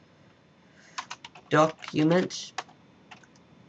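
Typing on a computer keyboard to enter an MS-DOS command, a few quick separate keystrokes under brief close-up talk, then a couple more clicks after the speech.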